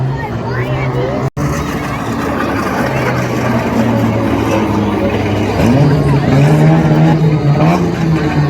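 Legal banger race cars roar around the Lochgelly Raceway oval, engines droning loudly and rising in pitch as they pass, with a crowd and talking mixed in beneath.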